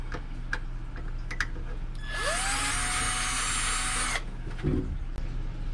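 A power drill boring holes in the plastic hull of a Harbor Freight Neptune RC boat, a close high whine that spins up and runs steadily for about two seconds, with light clicks and handling noise around it.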